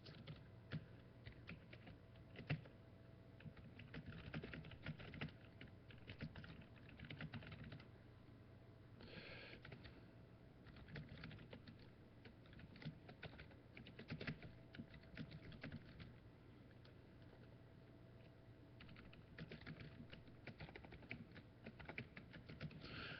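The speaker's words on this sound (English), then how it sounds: "I'm going to type in the poll." A computer keyboard is typed on during a live weather chat, giving faint, rapid, irregular key clicks with short pauses, steady throughout with no speech.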